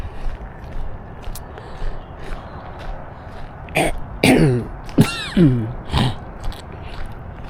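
Several harsh coughs and throat-clearing bursts from a person out walking on the GAP Trail near Smithton, loud and close, coming in uneven clusters over faint outdoor background noise.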